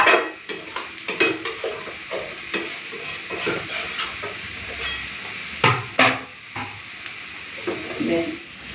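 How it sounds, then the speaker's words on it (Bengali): Goat meat frying in a wok, being stirred with rhythmic scrapes of a ladle against the metal over a constant sizzle, the strokes close and clear with a few sharper knocks. "এই এবার নেড়ে চেড়ে নিয়ে তারপরে আবার ঢাকা দিয়ে দেবো"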